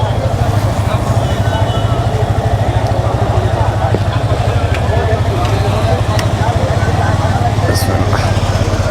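A Yamaha FZ25 250 motorcycle with only 349 km on it runs close by, its engine giving a steady, loud, throbbing low drone with a regular pulse throughout.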